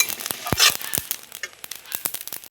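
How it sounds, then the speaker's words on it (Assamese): Dry red chillies and cumin seeds frying in a pan, giving sharp crackles and pops scattered irregularly over a light sizzle, close and fairly loud, with no speech. "ইয়াতে মই দি দিম জিৰা কেইটাও মই ভাজি ল'ম জলকীয়া কেইটাৰ লগত।"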